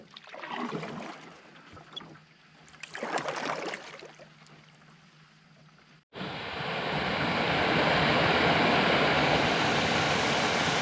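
A steady broadband rush of a small waterfall between lakes takes over halfway through, loud and continuous, after quieter canoe paddling and knocking sounds at the start.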